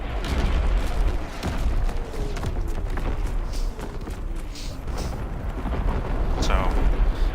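Artillery strike explosions in a WW2 video game rumble as a continuous heavy roar of booms, with dense low-frequency blasts layered over each other throughout and occasional sharper cracks.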